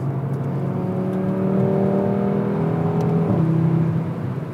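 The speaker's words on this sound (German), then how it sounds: "Fünfzylinder klingt gut wie eh und je, und er klingt eigentlich noch besser, als er es vorher schon getan hat" Five-cylinder engine of a 2017 Audi RS3 sedan while driving, a steady, droning in-cabin hum with layered harmonic tones that rise gradually and then drop as the engine shifts near the end, loud and with no talk.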